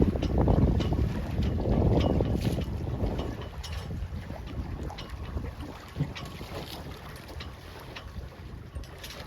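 Gusting wind buffets the microphone at a dock beside a boat, heavy rumbling bursts early that ease into a lighter steady rush with faint water lapping and occasional knocks.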